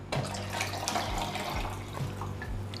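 Filtered water pours into the water tank of a Breville Cafe Roma espresso machine during descaling, a steady, close, continuous splashing stream with no voices.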